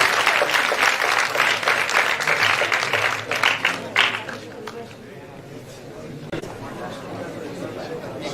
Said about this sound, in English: could you please give us the applause